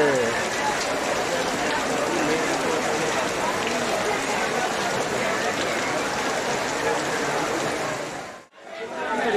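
Steady, dense patter of heavy rain drumming on a leaking tent overhead, constant and close, briefly cutting out near the end.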